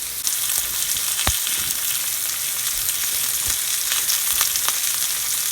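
A quarter-inch-thick bacon cheeseburger patty sears in a pan with a loud, dense, continuous sizzle, broken by a few sharp pops and crackles, with no voices.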